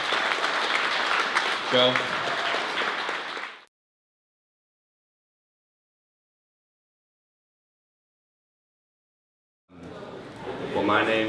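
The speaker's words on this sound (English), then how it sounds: "So let's give them a round of applause." Audience applause at a GlobalHack hackathon event, a dense wash of clapping for several seconds, then a long silence before clapping and voices return.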